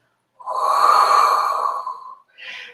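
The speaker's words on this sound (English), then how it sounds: "you're going to take a deep breath in and then you're going to exhale" A slow, deep breath drawn in and pushed out during a Pilates back stretch, one long airy exhale-like rush lasting over a second, followed by a short softer puff, close and alone.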